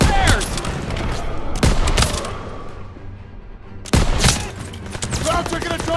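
Battlefield gunfire in Call of Duty WW2, clusters of loud close rifle and machine-gun shots separated by a lull of distant rumble, then a fresh burst of rapid shots with shouted voices mixed in.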